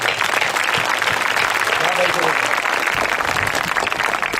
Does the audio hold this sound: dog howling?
no